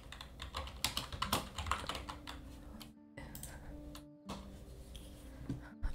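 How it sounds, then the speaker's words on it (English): Computer keyboard typing, a dense, steady rattle of close key clicks that runs through most of the stretch, briefly pausing twice, with a faint tonal hum underneath and no speech. "I'm sorry if you can hear my like keyboard and stuff"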